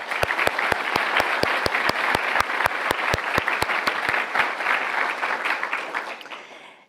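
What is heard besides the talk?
applause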